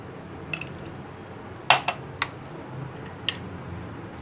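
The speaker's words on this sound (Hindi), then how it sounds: "जेली डालते हैं।" Spoon clinking against a glass while jelly is added to a rabri falooda, a few light, sharp metallic taps spaced out over a quiet background.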